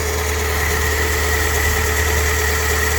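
A Fiat Panda's car engine idles steadily after starting following water pump work, a loud, continuous low hum with no breaks and no voices.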